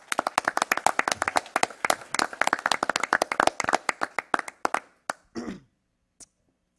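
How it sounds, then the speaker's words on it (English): A council-meeting audience claps to welcome a speaker, a dense run of handclaps that thins into a few scattered claps before falling silent. "let's all give a round of applause and a warm welcome to Rich"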